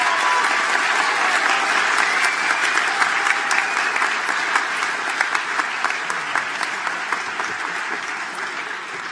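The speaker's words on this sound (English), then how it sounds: "can we have a round of applause for the graduates from the Department of Civil Engineering?" Audience applause for engineering graduates at a university commencement ceremony, with a large crowd clapping steadily and loudly throughout, fading slightly toward the end.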